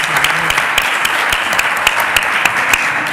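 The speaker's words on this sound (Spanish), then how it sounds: "Un aplauso." An audience at a round-table conference on bogus self-employment applauds loudly and continuously, sustained clapping filling the room for the whole stretch.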